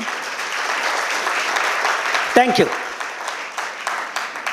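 Audience applause at a business conference session, a broad steady clapping that fills the whole stretch while a speaker's voice briefly cuts through near the middle.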